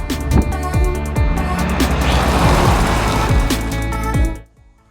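A 1996 Honda CR-V with a 2.0-litre petrol engine drives along, a loud steady engine drone with repeated thudding bumps from the road, cutting off abruptly near the end.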